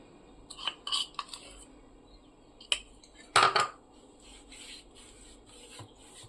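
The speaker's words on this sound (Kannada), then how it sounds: "ಇದ್ರ ಮೇಲೂ ಕೂಡ ನಾನು ಸಾಟಿಯನ್ನು ಹಾಕೊಂಡು ಸ್ಪ್ರೆಡ್ ಮಾಡ್ಕೋತಾ ಇದ್ದೀನಿ" Utensil spreading potato and pea filling over a chapati, heard as sparse scraping and tapping clicks close by, with one louder clatter near the middle and quiet gaps between.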